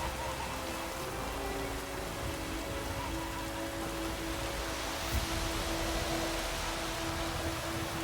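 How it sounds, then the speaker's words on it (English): Heavy rain pours steadily in the Witcher 3 video game, a dense, even hiss with no talk over it. "it's pouring like this"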